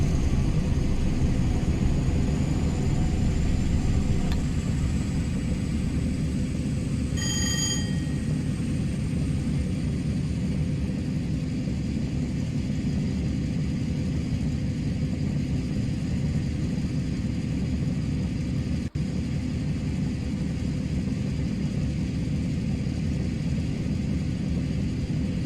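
A Class 50 diesel locomotive in Train Simulator Classic builds speed with a steady low engine rumble and drone, continuous and fairly loud, with a brief tonal whine midway.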